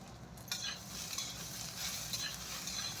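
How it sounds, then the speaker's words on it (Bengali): A vegetable fry in a home kitchen pan sizzles steadily while a utensil stirs it, scraping and clinking against the metal in a continuous close, busy texture. "এখন এই ভাজাটা প্রায় হয়ে গিয়েছে"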